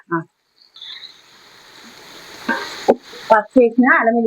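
Turmeric-spiced rasam cooking in a pan is stirred, with a steady hot sizzle and a few sharp scraping strokes of the spoon close up, and a voice briefly heard near the end.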